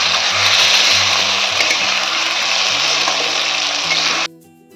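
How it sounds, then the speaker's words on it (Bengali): Potato pieces fry with onions in a pan, a dense, steady sizzle crackling loudly and close, then cutting off abruptly near the end. "আলুটা আমি মাংসের মতন পিস করেছি, পেঁয়াজের সাথে দিয়ে আমি ভেজে নেব।"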